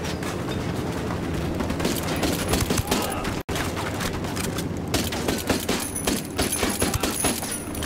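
Rapid gunfire crackles through a firefight in Ghost Recon Wildlands, with dense bursts of shots rattling continuously and loudly, briefly cut off once before the volley resumes.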